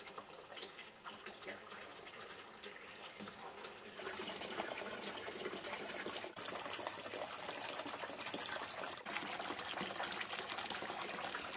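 Water pouring and trickling into a lukewarm outdoor hot spring pool, a continuous soft rushing splash that stays close and steady throughout, growing a little fuller partway through, with no talk.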